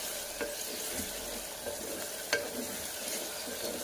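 Dried fish and onions fry in a pan with a steady, close sizzle and crackle, broken by a few soft clicks of stirring.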